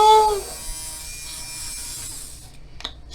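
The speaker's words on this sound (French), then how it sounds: "Oh, c'est un truc pour se raser." A small electric shaving gadget pulled from a mystery parcel buzzes steadily for about two seconds with a thin, bright drone, then cuts off, followed by a faint click.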